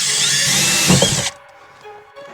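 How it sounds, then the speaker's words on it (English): A power drill bores a pilot hole in the dash area of a 1985 Mustang GT, a high whining buzz for just over a second before it cuts off, leaving faint clicks and quiet shop noise. "So I'm just going to drill a pilot hole to start."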